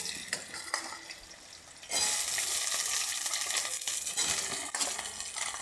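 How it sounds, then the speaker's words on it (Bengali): Potatoes and onions frying together in a pan, a bright hiss that swells suddenly and holds steady, broken by occasional clinks of a spoon stirring. "আলু পেঁয়াজ একসঙ্গে ভেজে নেব।"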